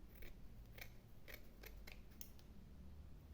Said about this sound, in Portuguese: E vamos cortar aqui também.